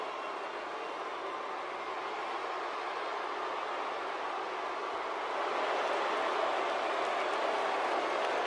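In the WWE 2K18 wrestling video game, a dense arena crowd roars as a continuous broadband wash that swells slightly louder partway through, with no clear voices on top.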